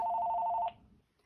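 A phone rings with one clear electronic tone burst lasting under a second during a quiet watercolor mask painting session, then the room falls silent.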